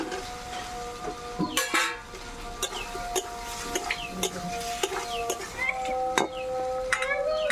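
Fried potatoes stirred in a pan with salt and turmeric, with light sizzling, a spatula scraping and tapping against the pan, and a voice speaking at times.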